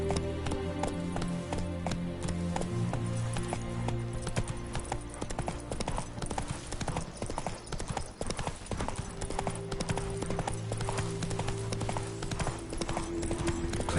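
In The Witcher 3, the horse Roach gallops with a rapid, steady clip-clop of hooves that fills the whole stretch, set against the game's music and ambient sound.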